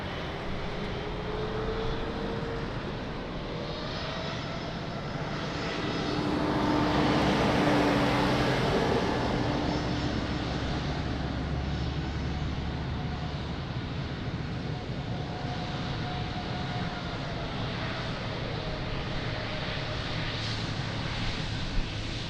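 An aircraft at Lisbon Airport on runway 02 makes a continuous, broad engine roar that swells louder in the middle and then settles into a steady distant rumble, with no voices.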